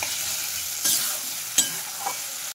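Potato and drumstick pieces frying with spices in a pan give a steady hiss, broken by a few sharp scraping stirs, close and moderately loud.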